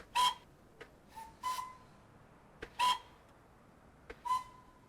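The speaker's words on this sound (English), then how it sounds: "I'm sure the biggest thing you want to hear is the whistle" Several short, sharp steam locomotive whistle blasts from an LSWR M7 in a train simulator game, sounding in separate bursts, spaced unevenly, loud against a quiet background.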